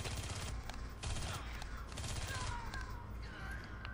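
Rapid bursts of enemy gunfire from the Aliens: Colonial Marines video game, Stasis Interrupted DLC on Xbox 360, crackling in dense repeated volleys across the whole stretch, loud and close, with brief ringing metallic tones near the end.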